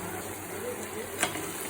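Potatoes fry in a pan with chicken cooked in little oil, giving a faint, continuous sizzle with one brief clink of a utensil partway through.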